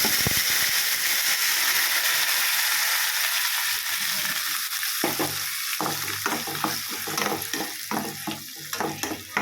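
Ground masala paste for chicken kurma drops into hot oil in a pan with a loud rushing sizzle, then settles into frying with repeated scraping stirs, close up.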